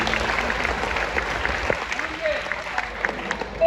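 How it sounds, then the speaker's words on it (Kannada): An audience at a stage programme claps in sustained, dense applause from start to finish, with voices mixed in underneath. "ಒಂದು ದೊಡ್ಡ ಚಪ್ಪಾಳೆ ಇರಲಿ"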